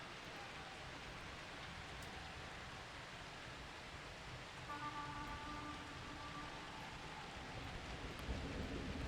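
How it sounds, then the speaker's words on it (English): Gentle, steady rain ambience in the video game Blood Bowl 2, a soft continuous hiss with faint tonal hints underneath, heard alone at low level. "it's raining in the game"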